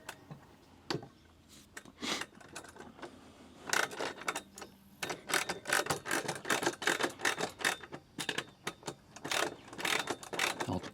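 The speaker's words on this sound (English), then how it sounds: "I'll go back to these two and tighten them up with the speed wrench" Ratcheting speed wrench tightening bolts on a metal stair stringer, producing rapid bursts of close, sharp clicks in uneven runs, growing denser and louder after the first few seconds, with no talking.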